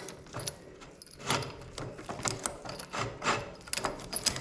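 Oliver Superior No. 38 grain drill distributor, freshly loosened, turned by hand, giving a string of close, irregular mechanical clicks and ratcheting rattles with no talking.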